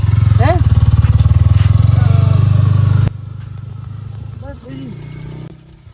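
A motorcycle engine idles with a loud, rapid throb close by while people talk over it, then the engine note drops and fades.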